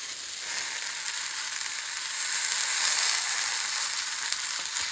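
Curry leaves sizzle steadily in a hot pan of oil for a broad bean curry, a close, bright crackling hiss that swells slightly midway and continues without any voices.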